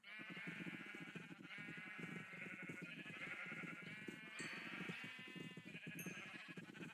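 Sheep in the Minecraft video game bleat repeatedly over constant game background sound, with overlapping nasal calls throughout.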